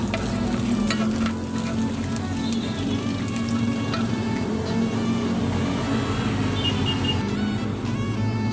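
Garlic frying in hot oil for a dinuguan, a Filipino pork stew: a steady, close sizzle crackles continuously with faint spatters and scrapes.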